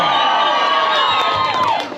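A live street-show audience cheers and whoops continuously, a dense, loud crowd roar that holds steady for the whole moment and fades slightly at the end.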